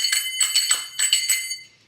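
Metal finger cymbals (zills) ringing bright and close, a single strike followed by quick groups of three in a rhythmic pattern, shimmering overtones decaying at the end.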